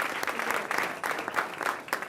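A roomful of people at a school board meeting applaud together, brisk hand clapping at moderate volume that carries evenly from start to finish.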